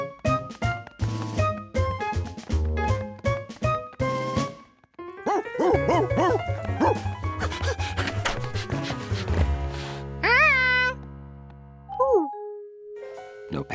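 Cartoon dogs bark and yip in a chaotic animated dog pile, with clattering effects, a bright musical score and rising whistle-like sound effects mixed over the scene.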